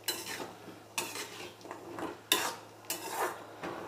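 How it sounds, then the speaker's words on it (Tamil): Cashews roasting in ghee in a pan, stirred with a spoon that scrapes and clinks against the metal in several distinct strokes over a low steady background, with no talk. "நல்லா கோல்டன் ப்ரௌன் ஆகிற வரைக்கும் நம்ம இதை அப்படியே பெரட்டி பெரட்டி விட்டு வறுத்தோம்னா போதும்"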